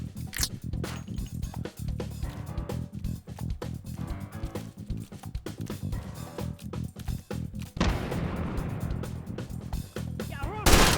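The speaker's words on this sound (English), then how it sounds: "Let's do some dual scout pistols." Dual scout pistols fire in H3VR, a VR shooter game with TF2-style action, giving sharp cracking shots in rapid irregular succession mixed with busy game noise and a voice heard briefly.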